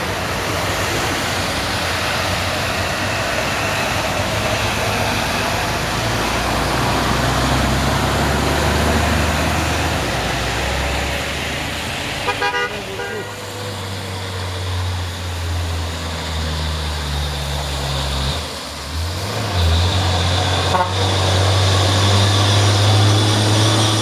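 A loaded Fuso Intercooler truck climbs the Bukit Kodok hill, a loud low engine drone under heavy broadband road and wind noise, with the engine note shifting and rising toward the end.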